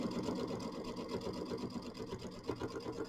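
Sewing machine stitching a quarter-inch seam along mini quilt binding, a soft, steady, rapid mechanical whir running continuously at low volume.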